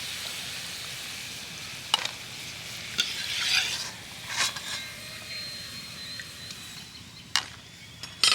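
Palm-fruit gokul pitha frying in oil, a continuous soft sizzle broken by a few sharp ladle clinks and scraping stirs, with no voices.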